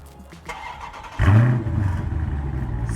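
A 2019 Dodge Challenger R/T Scat Pack Widebody fires up after a quiet moment, its engine catching with a loud bark and then settling into a deep, rumbling idle close by.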